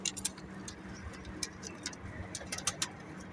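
Rooftop pigeons give soft, repeated cooing, faint and close, along with scattered light clicking sounds and no talking.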